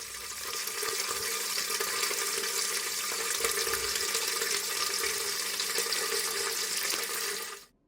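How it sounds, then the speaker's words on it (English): Water runs steadily into a hot liquor tank on a home brewing setup, a continuous loud rushing flow that stops abruptly at the end. "I'll run the water to the HLT ready for the sparge."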